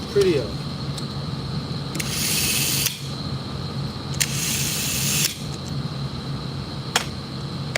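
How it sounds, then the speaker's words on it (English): A plumbing back nut is tightened, with repeated ratcheting clicks and short metallic turning bursts coming in a few rhythmic spells, close by, with no one speaking. "I'm gonna just tighten up this back nut as well"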